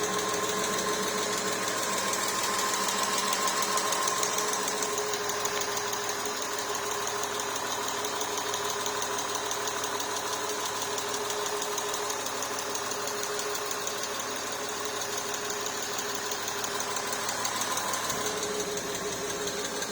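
A Porsche Boxster S engine idling after sitting unused for a long time, with a rapid, steady mechanical ticking from noisy valve lifters, continuous and close, with no voices.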